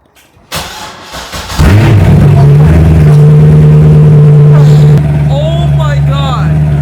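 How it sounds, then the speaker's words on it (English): A JDM Corvette with a new straight-piped exhaust cranks and fires up loudly, then settles into a deep, rumbling idle with revs close by, while people talk over it. "show you guys what the new exhaust sounds like"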